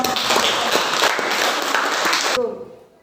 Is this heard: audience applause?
yes